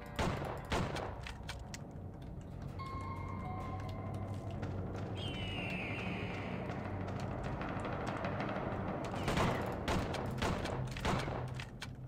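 Rapid bursts of gunfire from the video game Outlaws, with repeated sharp shots and booms clustered at the start and again near the end over a steady background of game ambience.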